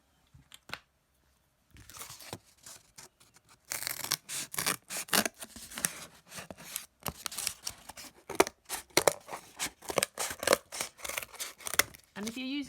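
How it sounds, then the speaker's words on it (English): Scissors snip through thick card in a run of crisp, close cuts and rustles, the blades' sharp crunches repeating quickly after a quiet start. "I'm just going to do one to begin with, because and then I'm going to cut that out."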